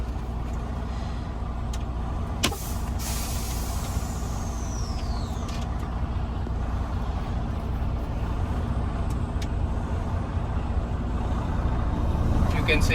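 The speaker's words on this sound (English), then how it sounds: "So I'll be checking my trailer brakes first." Air brakes on a truck trailer hiss with a sharp release around two and a half seconds, then a longer hissing burst, all under a steady idling diesel rumble with faint talk nearby.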